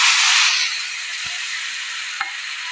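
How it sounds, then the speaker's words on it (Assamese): Potatoes frying in oil in a pan for a taro leaves curry give a steady, bright sizzle, loudest at the start and then settling, with a couple of soft stirring knocks. "মই আলুখিনি অলপ এইদৰে ৰঙচুৱাকৈ ভাজি ল'লোঁ।"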